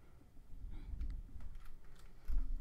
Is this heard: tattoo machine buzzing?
no